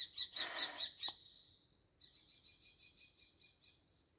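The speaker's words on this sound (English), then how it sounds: "going chip, chip, chip, chip, chip, chip, chip. It went over me and it came right back over me again." A bird flying overhead gives a quick run of sharp, repeated chip calls, then a second, fainter and more distant series follows after a short pause.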